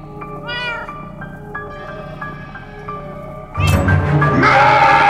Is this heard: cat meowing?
yes